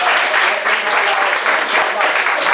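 Steady, loud applause from an audience at a charity auction of a painting during a recognition night, dense clapping filling the whole moment without pause.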